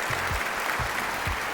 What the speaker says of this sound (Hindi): मैं चाहूँगा ज़रा एक दफ़ा भरपूर तालियां हो जाएं